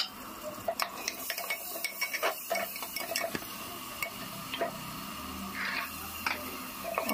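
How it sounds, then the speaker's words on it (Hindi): Tomatoes going into roasted masala in a pan, with close scraping and clinking of a spoon against metal as it is stirred, soft and intermittent, a faint sizzle beneath, no talking. "अब इसमें हम टमाटर डाल देंगे।"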